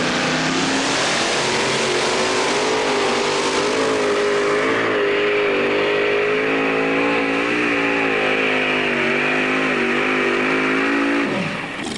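A two-wheel drive pulling truck hauling a weight sled down a competition pull track, its engine roaring loud and sustained with shifting pitch for the full run before easing off at the end.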